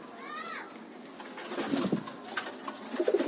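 Racing pigeons coo softly in low, throaty murmurs in a breeder's loft, with rustling and faint bird movement close by and a brief higher call early on.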